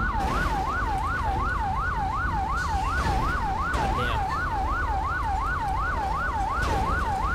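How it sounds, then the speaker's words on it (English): A wailing ambulance-style emergency siren from GTA 5, sweeping steadily up and down in a fast, regular cycle, loud and continuous throughout, with a brief muttered exclamation partway through. "you can turn off your siren, we're all good here."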